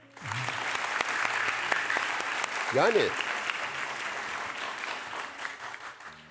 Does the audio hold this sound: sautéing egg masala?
no